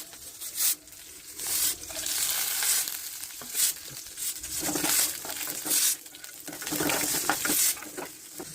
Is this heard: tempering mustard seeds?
yes